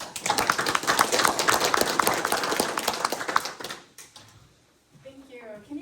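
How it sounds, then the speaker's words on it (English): An audience at a Civil War family history talk breaks into a dense burst of clapping that fades after a few seconds, followed by a brief voice. "let's give her a big clap"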